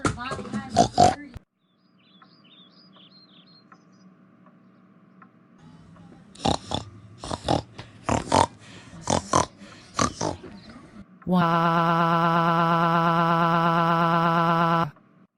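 A cartoon voice imitates pig noises, with several grunting oinks and snorts in quick bursts after a quiet stretch, then a long sustained squealing tone that ends abruptly.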